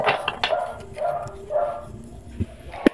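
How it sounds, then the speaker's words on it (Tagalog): Faint dog barks from a distance, several short yelps scattered through steady background noise. "Pasensya na kung may naririnig kayong tahol na aso."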